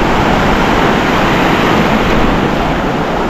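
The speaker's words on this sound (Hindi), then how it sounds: "ये देखिए बड़ी लहरें" Big ocean waves break at Gokarna beach in the evening as a dense, steady, loud roar of surf, heard close to the water's edge without any talk.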